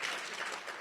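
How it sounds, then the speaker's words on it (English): An audience at an annual professional association meeting applauds a guest speaker, a brief, soft, even wash of distant clapping. "One more round of applause for Dr. Osili"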